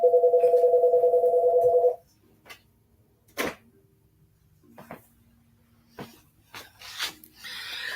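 A telephone rings with a close, loud warbling trill that lasts about two seconds and then cuts off. Scattered clicks and handling noises follow in a quiet room.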